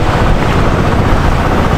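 Strong rushing floodwater during a typhoon in Nabua, a dense, steady roar of water churned by gusting wind, loud and close with no pause across the short stretch.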